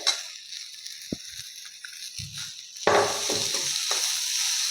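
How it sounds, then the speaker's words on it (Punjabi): Finely chopped onions sizzle in a hot pan as they fry, a bright continuous hiss that jumps louder after a few light clinks and stirring scrapes, with no voices. "ਹੁਣ ਪਾ ਦਾਂਗੇ ਆਪਾਂ ਦੋ ਪਿਆਜ਼ ਬਰੀਕ ਕੱਟੇ ਹੋਏ"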